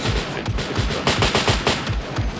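Rapid automatic gunfire in a video game, a loud burst of repeated shots in quick succession that surges and fades over a couple of seconds, with no talk over it.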